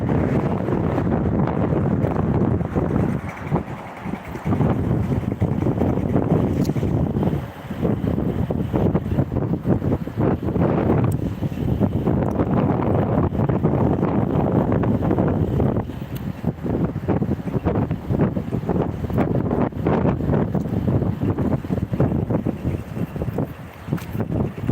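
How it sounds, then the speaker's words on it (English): Strong wind buffets an outdoor microphone with a constant low roar and rumbling gusts, loud and unbroken throughout. "It's windy out here"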